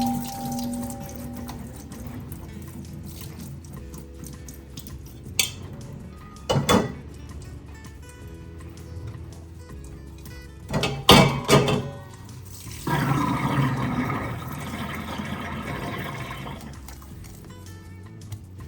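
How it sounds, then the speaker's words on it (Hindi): Soaked dosa batter ingredients are strained and rinsed under fresh tap water in a kitchen sink. Brief splashes and clatter come first, then a steady rush of running water near the end. "अभी मैं इसको छान लूँगी। और फ्रेश वाटर से इसको वॉश कर लूँगी।"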